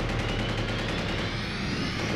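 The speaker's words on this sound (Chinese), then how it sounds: "营区的东北、西北两个方向也同时传来密集的枪声" Dense gunfire pours in from several directions at once, a continuous rattling barrage that sounds distant and fairly faint, with no speech.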